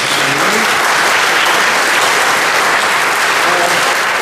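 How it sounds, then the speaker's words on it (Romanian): A crowd at a Trachtenfest in Glogowatz gives sustained, loud, even applause for the Slovak community's brass band from Nădlac, a dense wall of clapping that holds steady throughout. "Haideți să-i aplaudăm."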